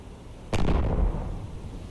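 A single loud, booming shot from a naval gun turret in the submarine game Cold Waters, with a sharp onset and a long rumbling decay, heard alone over a steady background hum.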